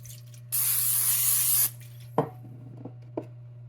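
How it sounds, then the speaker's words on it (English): Cooking spray hisses from a can onto a pan on a Samsung induction range, one steady burst about a second long over a low electrical hum, followed by a few faint taps and clicks. "So let's do some cooking spray."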